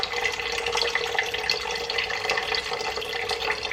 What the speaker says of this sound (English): So let's fill it up with some water.